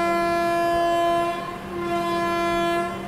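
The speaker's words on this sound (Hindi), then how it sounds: "अपनी ट्रेन का डिपार्चर सिग्नल भी हो गया।" A long, steady departure horn from the Jharkhand Sampark Kranti Express, a loud sustained tone that dips briefly halfway and then carries on for about three seconds.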